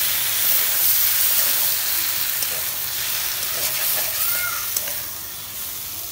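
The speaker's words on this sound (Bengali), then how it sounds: "চিন্তন ভাজা হয়েছে, এখন আমি ঘরে নেব।" Chintan frying in a pan gives a steady, close sizzling hiss that runs unbroken the whole time, with no voices over it.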